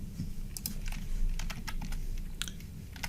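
Clicks on a computer keyboard come as quick, irregular keystrokes in short clusters over a soft, steady room hum.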